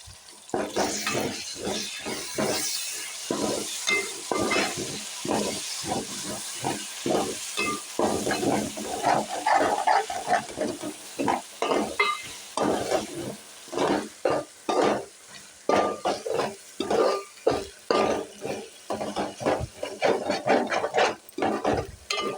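Pulao ingredients frying in a pan, with repeated scraping stir strokes over a continuous soft sizzle, moderately close and without talk.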